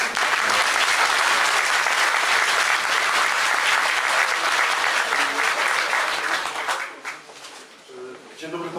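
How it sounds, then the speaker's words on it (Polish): Meeting audience applauds a guest speaker at a Polish public talk event: dense, sustained clapping from a large crowd, steady and loud for about seven seconds before thinning into scattered claps at the end. "Wojciech Sumiński, wielkie brawa"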